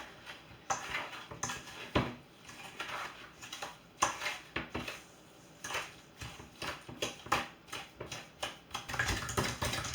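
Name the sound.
whisking cookie mixture with edge of potato masher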